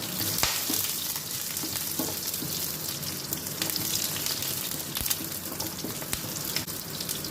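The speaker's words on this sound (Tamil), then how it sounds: "பூண்டு எண்ணெயில் வதங்கட்டும்" Crushed garlic sizzles and fries steadily in hot oil with mustard seeds and cumin in a pan, a loud continuous crackle with small pops and stirring scrapes throughout.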